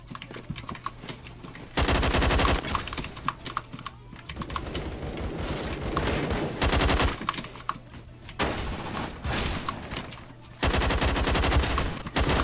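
Bursts of rapid automatic fire from an AUG-A1 rifle in a video game, loud, clattering and close, repeated in several long volleys separated by short pauses.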